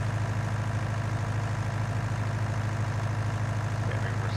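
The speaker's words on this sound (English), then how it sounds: "this hill is not cooperating with my little horsepower. My wee little tractor." Farming Simulator 19 tractor with little horsepower labouring up a hill, a steady low engine drone holding constant and loud throughout with no break in rhythm.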